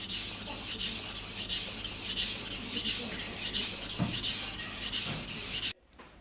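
A knife is sharpened on a Japanese whetstone with steady, rhythmic raspy strokes, about two per second, close and fairly loud, continuing for several seconds before stopping abruptly, with no talk.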